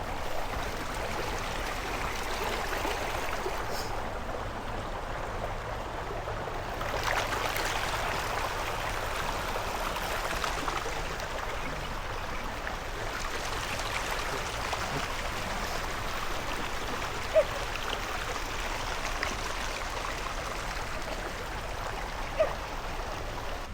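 Clear water flows in a stream near an Aeta community in Botolan, Zambales, a steady, even rushing babble that continues without break throughout.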